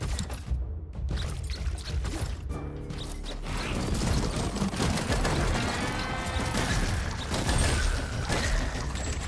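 Gunfire in the video game Far Far West, rapid overlapping shots and crashes forming a dense, continuous barrage of fairly loud battle noise.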